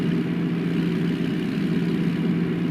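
A Cummins ISX 600 engine in a Kenworth W900 truck hums steadily in American Truck Simulator, an even, low droning tone that holds for the whole stretch with no speech.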